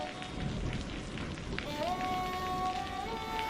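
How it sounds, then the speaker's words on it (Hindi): Heavy rain pours down in a continuous loud hiss, with a low rumble underneath and sustained musical tones rising partway through. "बारिश तो थमने का नाम ही नहीं ले रही थी।"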